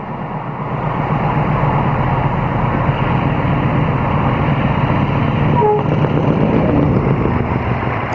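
British Rail Class 50 diesel locomotive rounding the curve at Pangbourne with a passenger train from Oxford, a loud continuous engine roar and rolling rumble held steady throughout, heard close with no speech.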